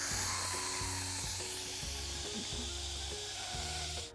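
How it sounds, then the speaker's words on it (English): A steady, loud hiss of steam venting from an Instant Pot pressure cooker set to quick release, continuous over a lower musical backing with no speech. "we're gonna turn it to quick release, which is turning it to venting so all the steam will come out"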